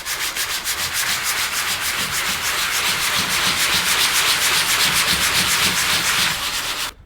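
Coarse sandpaper is rubbed steadily back and forth over a Ducati Desmosedici RR brake pad, a close, loud, continuous rasping scrape that runs for about seven seconds, then stops abruptly.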